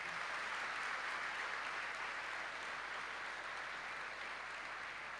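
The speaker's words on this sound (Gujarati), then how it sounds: "એ લોકો માટે જોરદાર તાળીઓ પાડી દઈએ." Students seated in a hall break into applause, a steady wash of many clapping hands, fairly distant and even throughout, with no voices over it.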